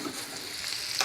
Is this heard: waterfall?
no